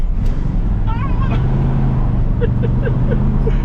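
1968 Ford F100 Ranger pickup driving around a curve after years abandoned, its engine a loud steady rumble heard from inside the cab, with brief chirps and people talking over it.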